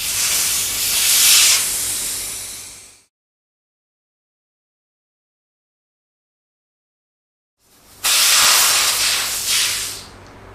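Air hisses out of a TUBLISS Gen 2 motorcycle tire system as the valve cores are removed, two loud bursts of release separated by several seconds of silence, each lasting about three seconds and fading out.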